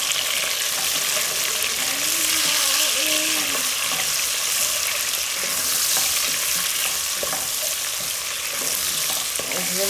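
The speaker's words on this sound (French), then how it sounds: "je mélange." Onions being stirred in a pot for a beef pot-au-feu stew, a steady close sizzle with scraping stir strokes running throughout, no talking.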